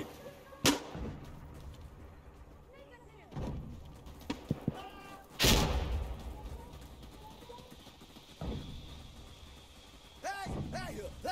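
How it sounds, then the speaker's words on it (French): Smoke grenade being thrown and going off in the shooter game Insurgency Sandstorm: several sharp bangs and thuds with hissing bursts, spread across a noisy battlefield mix with voices calling out in the background. "Throwing a smoke grenade!"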